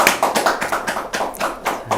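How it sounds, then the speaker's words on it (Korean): A church congregation claps after a baptism, a sparse, loosely rhythmic patter of separate hand claps, about eight distinct beats in quick succession, fairly close and moderately loud, with no talking. "박수해 주십시오."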